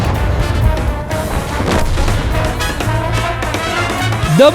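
Tank cannon fire in a tank battle video game, with several heavy booming shots and crashing impacts over a rumbling low backdrop, loud and close.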